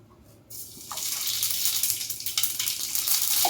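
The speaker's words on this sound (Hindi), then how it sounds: "अभी ये चावल के लिए पानी रख देती हूँ साथ के साथ।" Tap water pours into a cooking pot to prepare rice in a home kitchen, beginning abruptly after a short quiet moment and then running steadily with a close, splashing rush.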